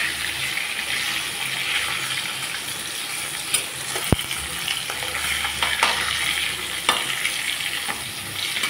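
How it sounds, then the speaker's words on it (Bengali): Pieces of catla fish sizzle loudly in hot oil while being turned, the steady crackle broken by sharp spatula clacks against the pan, one especially distinct near the middle. "এইভাবে আমি উল্টে পাল্টে মাছগুলো ভেজে নেব।"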